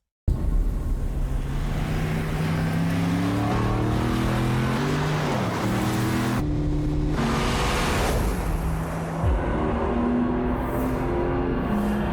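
A car engine's exhaust note in a commercial, revving up and down through rising and falling tones, loud and close, with a brief cut in the middle and a surging hum throughout.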